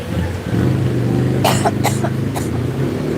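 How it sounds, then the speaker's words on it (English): A person coughs several times in quick, sharp bursts after eating spicy laksa, over a steady low rumble of restaurant background noise. "So I coughed a little."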